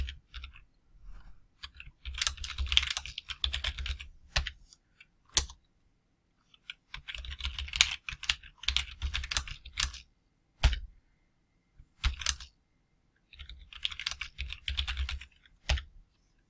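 Someone types Python code on a computer keyboard, close bursts of rapid key clicks broken by short pauses and single sharp taps, with no voices.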